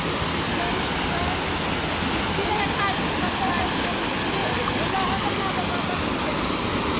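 Waterfall at Paeng Falls, a steady, dense roar of falling water filling the whole clip without pause, close and constant, with no voices standing out.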